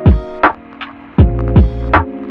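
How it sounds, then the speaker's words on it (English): Angle grinder buzzing against steel bits from a welding trolley build as it scours off surface rust, with loud repeated bursts as the disc bites and eases off, a steady whine running between them. "so I'm just going to do that with the grinder."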